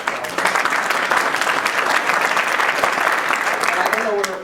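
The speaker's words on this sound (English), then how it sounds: "So I want to give a round of applause" A crowd at a community health care forum claps steadily for county supervisors and staff, a full, sustained round of applause that holds even throughout and tails off at the end as a voice begins.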